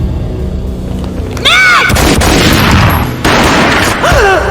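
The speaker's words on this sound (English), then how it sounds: "A gunshot boomed and she fell down in slow motion." Gunfire in the Max Payne video game: a loud, broadband boom lands amid a dense, noisy game soundtrack, followed by sustained rumbling, with a swooping tonal sound effect before and after.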